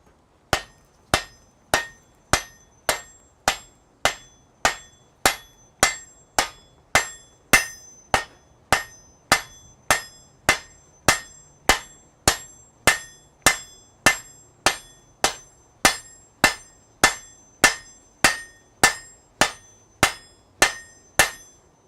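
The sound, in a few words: blacksmith hammering hot metal at the forge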